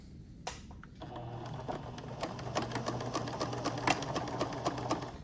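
Sewing machine running a half-inch seam down fabric for a flat-felled seam, a close, steady rapid clatter of the needle after a few initial clicks, continuous and moderately loud.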